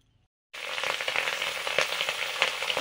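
Fish fry in hot oil in a pan, a sudden loud sizzle bursting in after a brief silence and continuing with crackling pops close by, no talking.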